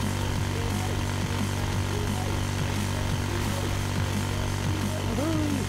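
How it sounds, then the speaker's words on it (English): A steady, loud mechanical roar from a vehicle's vertical thruster firing in the Arma 3 Get_Wrecked mod. It holds a constant droning tone with faint chirping sounds over it from start to finish. "Q is my nitro, E is my thruster. Vertical thruster. I can fly!"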